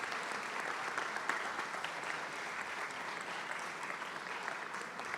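Audience applause at an executive lunch for a Long Island business association, steady dense clapping from a large crowd, sustained and even throughout, heard from some distance.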